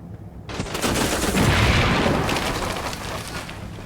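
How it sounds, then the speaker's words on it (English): An artillery strike in the war game Combat Mission Red Thunder erupts after a brief quiet: a loud, sustained roar of rolling blasts and crackling impacts that swells, then slowly tapers off. "Another artillery strike."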